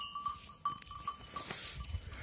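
Several short bleats from goats at close range, a few calls in quick succession with some rustling and movement underneath.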